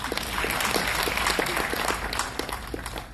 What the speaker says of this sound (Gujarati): એમના માટે તાળી પાડો